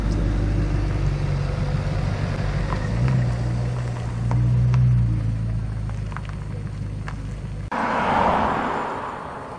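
An Audi R8 at a Paris rally in Ouzouer-sur-Trézée rumbles past with a deep steady engine drone that swells and fades, followed by a broad whooshing rush near the end.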